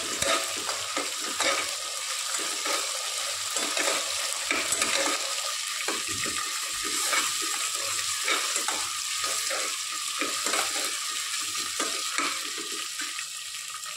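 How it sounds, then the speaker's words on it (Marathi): Ginger-garlic paste frying with browned onions in a pan for mutton nihari, a continuous loud sizzle with repeated scraping stirs throughout, no voices. "त्याच्यात एक छोटा चमचा आलं लसणाची पेस्ट घालते मी, परतून घेऊया व्यवस्थित"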